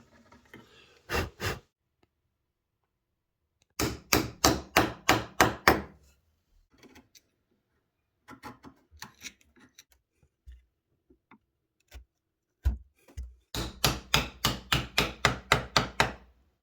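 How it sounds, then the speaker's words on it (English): A chisel pares wooden dovetail pins by hand after freehand routing, giving bursts of sharp, rapid ticking strokes in quick runs separated by pauses, close and fairly loud with no talk. "After the routing I use a chisel and pare my pins down to the tape pieces."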